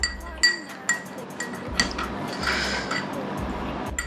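A metal spoon stirring honey into a hot ginger, lemon and pepper drink, giving repeated light clinks against the glass in an uneven rhythm, close and fairly clear, with soft liquid swishes between taps.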